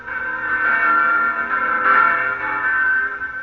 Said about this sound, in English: There are the church bells.